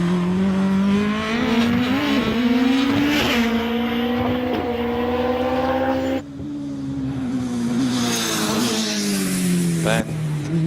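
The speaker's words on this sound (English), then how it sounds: "Ben Stevenson in the Empire Evo 2." The Empire Evo 2 hillclimb race car with a rear-mounted 1.3 litre supercharged engine screams through gear changes up the course, loud rising and falling engine notes with a commentator talking over it.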